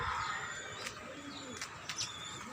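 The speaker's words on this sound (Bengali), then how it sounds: "এদিকে আছে কবুতর, এদিকে আছে ঘুঘু পাখি, কবুতর" Pigeons and doves at a pigeon loft in a storm-damaged rooftop garden, with a few soft coos and brief chirps that sit faintly over a steady background hiss.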